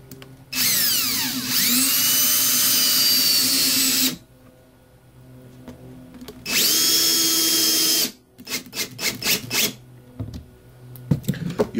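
A power drill drives screws into wooden table cleats, with two sustained high whining bursts of several seconds each, then a quick series of short revving pulses and clicks, close and loud with no talking.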